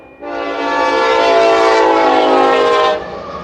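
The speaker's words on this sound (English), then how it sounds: "I always love watching trains go by." A long train passes through Delano, its horn blaring in one loud sustained blast for nearly three seconds over a low rumble of rolling wheels.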